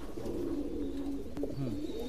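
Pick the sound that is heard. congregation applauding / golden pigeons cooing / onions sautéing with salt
golden pigeons cooing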